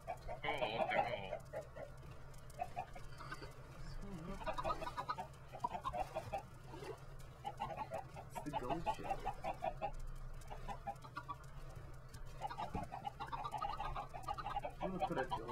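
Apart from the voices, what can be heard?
chickens clucking in a Minecraft-style video game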